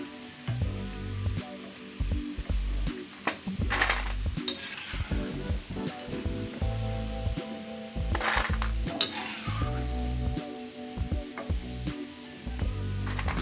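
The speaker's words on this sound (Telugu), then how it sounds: "ఇవన్నీ తీసుకొని మనము సపరేట్ చేసుకుందామండి ఆయిల్లో నుండి" Masala peanuts crackling in hot oil as a spoon scoops them out, with a loud continuous sizzle, repeated metal scrapes and clinks against the pan, and no one speaking.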